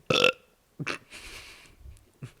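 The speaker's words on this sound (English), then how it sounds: "hold in your burps" A loud, close burp bursts out at the start, followed by a few softer throaty burp-like sounds and short gaps of near silence.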